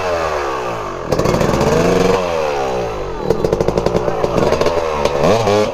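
A motorcycle at about half throttle in first gear revs hard in two loud bursts, with rising and falling engine pitch and a choppy, rapid pulse close to the microphone, as a rider sets up a wheelie.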